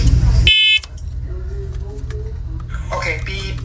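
A fourth-generation talking smoke and carbon monoxide alarm sounds a loud, harsh electronic beep for about half a second during a test. Quieter tones and a synthetic voice follow under room noise.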